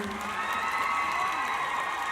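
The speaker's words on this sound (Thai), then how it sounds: "ขอเสียงปรบมือดัง ๆ ให้กับป้าป้าหน่อยได้ไหมคะ" A concert audience at a show claps and cheers in a dense, steady wash of applause with scattered whoops, heard from within the crowd.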